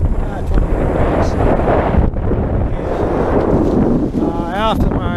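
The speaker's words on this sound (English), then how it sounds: "it's still quite a bit of wind, but it's going down quite a bit" Strong wind roars steadily across a sailboat at sea during a stormy upwind passage from Panama to Jamaica, a loud, continuous buffeting rush with wave wash beneath it that never lets up.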